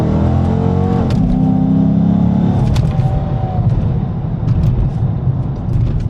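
A Dodge Charger Scat Pack is driven hard on a closed racetrack, its engine roaring loudly and close by, the pitch climbing and falling through revs and gear changes, with no talking over it.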